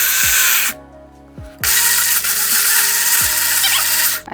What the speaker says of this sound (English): Now we're going to puree this until it's very smooth